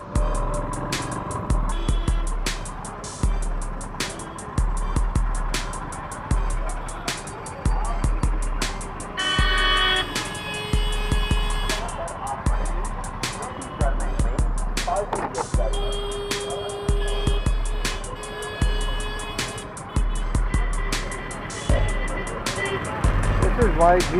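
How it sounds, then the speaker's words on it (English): Heavy road traffic in India, with car and truck engines rumbling, repeated short horn toots and a burst of honking, while someone speaks over the din. "thanks to this insane traffic"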